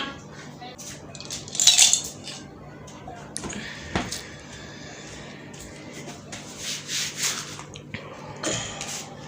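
Dishes, pots and cutlery clatter and clink in a home kitchen as they are handled, in several bursts of scraping and knocking with short pauses between them. People talk in the background.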